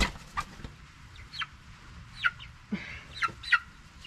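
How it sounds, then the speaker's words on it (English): Cornish Cross chickens cluck in short, scattered calls, moderately close, as they are placed into a new predator-proof chicken tractor on grass while rain begins to fall. "I'm gonna go ahead and add the chickens"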